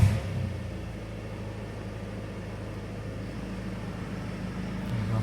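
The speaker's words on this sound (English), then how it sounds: "I'll leave the door open there just so we can have a listen to the engine." A 2016 Ford Focus ST3 with a 2.0 TDCi diesel engine is push-button started and left idling with the driver's door open, a steady low rumble holding evenly for several seconds with no talk.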